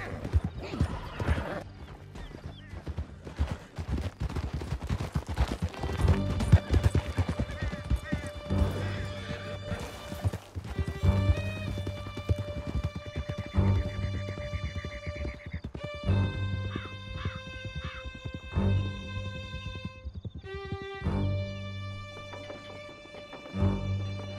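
Horse hooves drum at a gallop in Red Dead Redemption 2, a steady clip-clop rhythm running under orchestral game music and occasional voices, with a whinny now and then.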